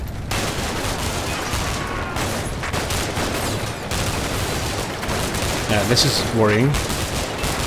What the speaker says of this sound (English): just Russian infantry, AKs, firing free